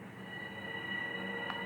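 A Long Island Railroad or Metro-North train near New York rolls along with a steady, fairly loud rumble, joined by sustained high metallic squealing from the wheels and no voices.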